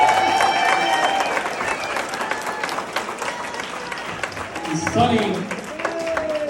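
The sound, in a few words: round of applause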